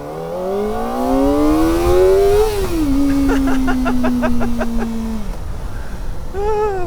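A Kawasaki Ninja ZX-4RR motorcycle engine revving high while riding, its whine rising through the gears with brief drops at shifts, loud and close over wind noise.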